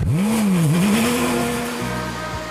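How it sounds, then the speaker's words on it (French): A Peugeot 907 concept car's all-aluminium 6-litre 60-degree V12 engine revs loudly up close, pitch sweeping up, dipping and holding, then dropping back toward a lower drone. "le 12 cylindres en V ouvert à 60 degrés, tout alu, développe 500 chevaux pour 6 litres de cylindrée"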